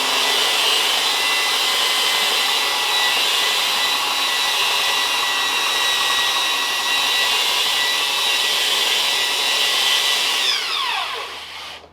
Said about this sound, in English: I'm gonna start the belt sander and just let it, just get the feel for it.